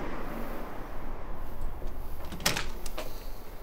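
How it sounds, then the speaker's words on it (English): An automatic door slides open in an otherwise steady, moderately noisy indoor space, giving a short burst of motor whirr and a brief clunk partway through, with no talking. "Oh, automatic door."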